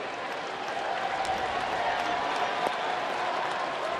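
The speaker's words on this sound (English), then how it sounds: "Smattering of applause through the crowds here at Fenway Park." A light smattering of applause rises from the crowd at Fenway Park during a Boston baseball game, soft and spread out over a steady stadium murmur.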